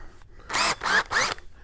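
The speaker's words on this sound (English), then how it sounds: "We just use a drill for the hole saw." A power drill fitted with a hole saw runs in three short whirring bursts with brief pauses between, loud and close for installing a bulkhead fitting.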